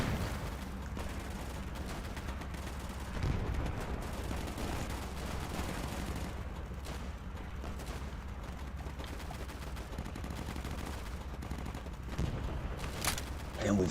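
Gunfire in the video game Easy Red 2, set in France 1940: a dense, continuous roar of shots and rumbling battle noise runs the whole time, with sharper bursts standing out now and then.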